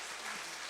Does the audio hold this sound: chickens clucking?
no